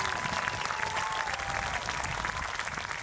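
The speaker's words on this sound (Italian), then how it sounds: "Give David a big round of applause as well." Steady applause from an audience for pianist David Kelly at an outdoor opera concert on the river shore, dense continuous clapping throughout with no talk.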